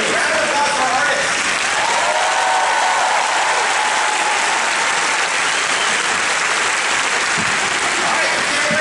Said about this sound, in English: Round of applause for our artists.